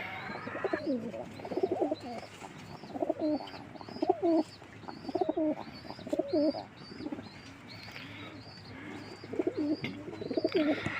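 Pigeons coo in soft, repeated rolling phrases close by, with faint chirps from other birds above and a low steady hum underneath.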